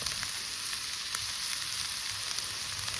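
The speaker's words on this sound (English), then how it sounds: "Put the old slab on, cook some bacon." Bacon sizzling on a hot slab over a campsite fire, a steady close crackle with scattered spitting pops and no talking.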